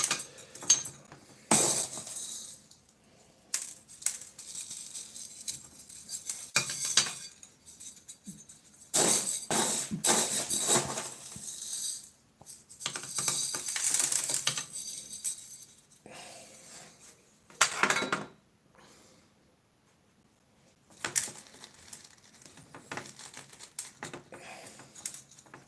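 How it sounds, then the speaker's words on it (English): Bonsai substrate mix poured into a pot while potting a little jade tree: gritty granular rustling and pattering in repeated bursts with quiet pauses between, close and fairly loud. "And now I'm gonna come in with my substrate mix"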